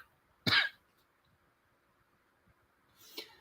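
A person fighting a cold coughs twice: one sharp, close burst early on, then a second, softer cough near the end, with near silence in between.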